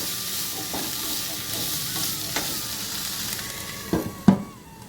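Ingredients for a baby corn gravy fry lightly in a pan, a steady close sizzle broken by spatula scrapes and a few sharper clanks toward the end.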